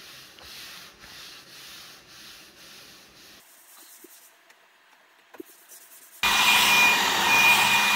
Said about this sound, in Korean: 싹 사포로 갈아주고요.